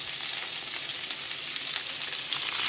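Chicken hearts hit hot butter in a pan and fry with a steady, bright hissing sizzle, close and continuous, growing slightly louder toward the end with no one speaking.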